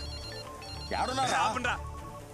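A mobile phone rings with a bright, repeating electronic ringtone that swells in the middle of the moment, while someone talks over it.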